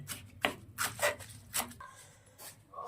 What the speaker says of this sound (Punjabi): ਇਸ ਤਰੀਕੇ ਨਾਲ ਆਪਾਂ ਜਿਹੜੀ ਪੱਤਿਆਂ ਦੀ ਕਟਿੰਗ ਆ ਉਹ ਕਰ ਲਵਾਂਗੇ ਬਰੀਕ ਬਰੀਕ